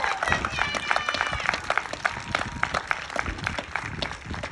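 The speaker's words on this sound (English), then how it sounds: "Give yourselves a shout and a round of applause" A rally crowd claps and cheers, dense irregular hand claps with shouts and whoops rising over them, loud and continuous from start to end.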